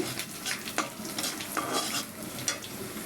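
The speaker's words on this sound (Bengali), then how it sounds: "পাট শাকটা ভাজি করে নিতেছি" Jute leaves (pat shak) frying in a pan, with a steady sizzle broken by repeated scrapes and clinks of a stirring utensil against the metal, close and fairly loud, no voices.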